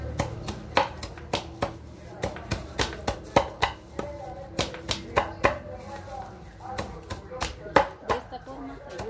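Organic scraps for a worm compost bin get chopped and crushed in a steady series of sharp close knocks, roughly two per second, with a voice talking over them.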